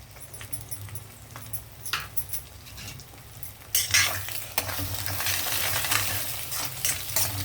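Eggs frying in a pan with salt and pepper while a spatula stirs and scrapes, light clinks at first, then a louder dense sizzle filling the second half, close by with no talking.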